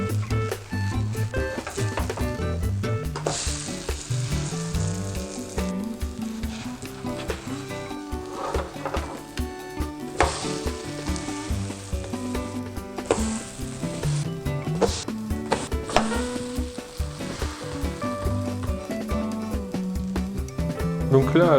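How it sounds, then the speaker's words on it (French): A thick vegan apple crêpe made with flour and soy milk sizzles in a frying pan, a steady frying hiss throughout with occasional scraping stirs and soft background music, while someone speaks French over it. "Dès que le pourtour de la crêpe commence à être cuit comme ça, on va commencer à la retourner."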